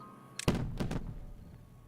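Fireworks go off in Timberborn, a beaver city-building game: a sudden thump followed by a couple of bright crackling bursts, moderately loud and close, fading into a soft tail with no talking.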